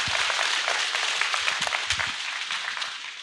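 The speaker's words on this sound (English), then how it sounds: "If you want, you can applaud or use the noise devices." Audience applause at the finals of a startup pitching competition: dense, steady clapping from a crowd, moderately loud and continuous throughout with no talk over it.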